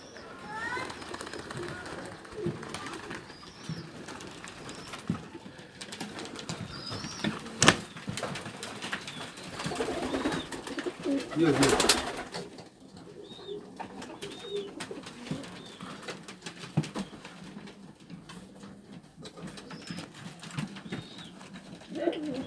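A flock of pigeons in Dushanbe, Tajikistan, coos continuously nearby, low throaty calls layered over one another, with a brief scraping rattle midway and faint speech at times.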